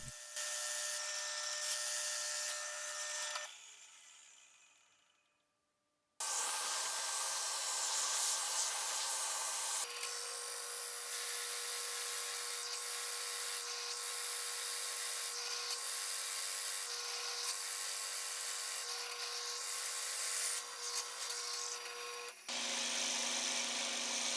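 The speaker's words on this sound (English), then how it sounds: "I drilled out the area between the first 2 holes and cleaned it up the best that I could with the bit" A drill bit boring out holes in a block of scrap wood, a loud steady whirring grind with brief pauses and changes in pitch as it cuts, close up with no talk.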